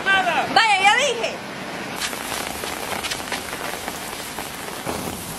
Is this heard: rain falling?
yes